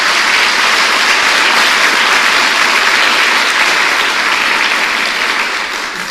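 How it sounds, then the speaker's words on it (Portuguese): A church congregation claps loudly and continuously, a thick steady wall of applause that eases slightly at the very end. "Dê uma salva de palmas ao Senhor."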